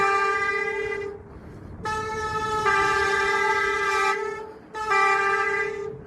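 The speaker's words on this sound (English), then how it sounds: "hasn't been ridden for a few weeks, and the brakes are loud" Loud, piercing high-pitched bicycle brake squeals in three sustained bursts with short gaps, harmonically rich and tonal over a low rumbling background; the bike has sat unridden for weeks.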